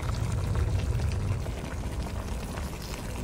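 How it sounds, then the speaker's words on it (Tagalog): Water is poured into a pot of curry-flavored pork rib adobo, giving a steady, close splashing rush that holds for a few seconds. "Lalagyan natin ng tubig para palambutin natin ang ating pork ribs."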